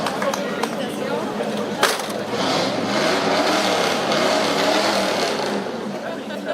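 A pre-war 1939 Citroën convertible, one of 18 left in the world, drives up in a steady mid-pitched engine hum at a vintage car parade, with crowd chatter and a commentator's voice running over it.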